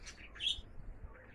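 Pigeons at an outdoor loft give a single brief chirp, quiet and slightly distant, over a faint low outdoor rumble.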